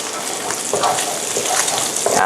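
Bacon sizzling in a pan as it renders its fat, a steady crackling fry with occasional brighter pops and stirring sounds, close and continuous.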